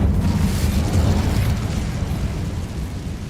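Incendio fire spell cast in Hogwarts Legacy, a loud, sustained fiery whoosh and rumble with booming low end that holds steady for several seconds and tapers slightly, no talk over it.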